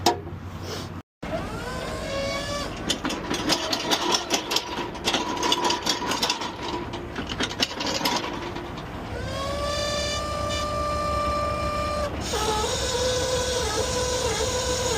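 Hydraulic cylinders on a car hauler truck work while a 2500 pickup is loaded. A loud, steady mechanical whine with rising tones and rapid clicking runs throughout, broken by one brief cutout near the start.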